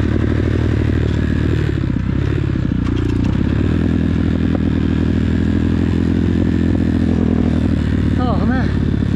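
Dirt bike engines roar continuously and loudly on a wooded trail, with rattling, scraping and clatter from riding over rough ground while people talk over the noise.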